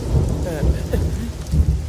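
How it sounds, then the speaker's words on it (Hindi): Rain falls steadily with low thunder rumbling beneath it, loud and close, forming a brief burst of storm noise with no speech. "ओह, ये तो बारिश हो रही है।"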